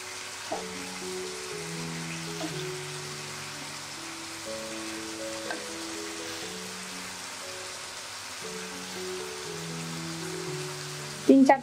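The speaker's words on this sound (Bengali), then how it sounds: "টমেটো ফালি করে রাখা টমেটো আমি এখানে অ্যাড করে দিচ্ছি।" A steady, soft sizzle of frying as sliced tomatoes cook in a hot pan, continuous and even, with background music playing over it.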